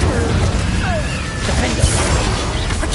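Incendio fire spell cast in combat in Hogwarts Legacy, a loud roaring burst of flame with crashing impacts and whooshes over a constant dense rumble.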